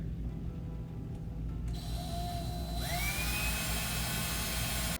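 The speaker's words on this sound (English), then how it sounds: "So you're going to drill a hole right in there." A power drill whines steadily, its pitch rising as it bites in and then climbing higher as the bit pushes through, close and loud with no talking.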